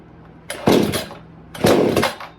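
A Chinese chainsaw, freshly fuelled for the first time, gives two short, loud rasping bursts a second apart as its engine is pulled over and briefly catches.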